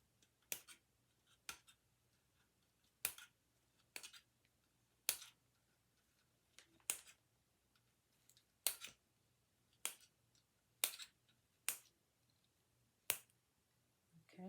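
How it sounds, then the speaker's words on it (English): Wire cutters snip through chicken wire on a craft frame in a string of about a dozen sharp, close clicks spaced roughly a second apart, with quiet between cuts. "I'm just going to take some wire cutters and just snip"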